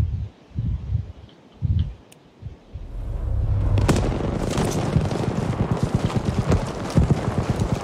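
A bomb detonates in the video game Battlefield V: sparse thumps and movement give way to a loud, broad blast, followed by a dense roar of rumbling debris and scattered cracks that continues to the end.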